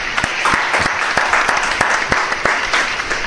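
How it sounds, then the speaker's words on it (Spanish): A podcast audience gives warm applause to welcome Peruvian chess grandmaster Julio Ernesto Granda, a dense, steady burst of many hands clapping close by throughout. "le vamos a recibir con unos calurosos aplausos"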